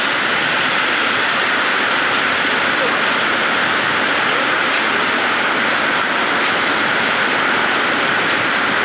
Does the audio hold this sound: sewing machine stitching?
no